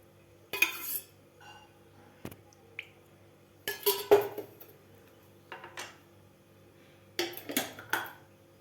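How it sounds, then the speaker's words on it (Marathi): A spoon clinks and scrapes against a wok holding oil in scattered bursts while an eggplant dry curry is being made, separated by quiet pauses. "मी इथं भाजी बनवायला कढई ठेवलेली आहे यामध्ये आपल्याला तीन ते चार चमचे तेल घालायचं आहे"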